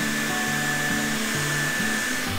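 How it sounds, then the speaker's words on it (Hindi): A hair dryer fitted with a bonnet-style hood attachment runs steadily and loudly throughout, a constant whirring blow with a fixed motor whine and no voices. "ड्रायर मैंने अपना फिट कर दिया है, अब हम इसको करेंगे स्टार्ट"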